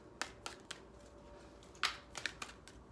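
Tarot cards are shuffled by hand, giving quiet riffling and snapping bursts at irregular intervals over a low background hiss, close and soft, with no talk.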